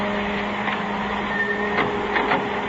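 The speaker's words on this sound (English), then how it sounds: "Kill that dryer, will you?" Photo print dryer running in a darkroom, a steady mechanical whirring hum with a faint tonal whine, continuous and fairly loud throughout.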